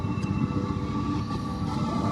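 A train rolls past on a railway line on a windy day, a steady close rumble with a continuous metallic drone and no talk.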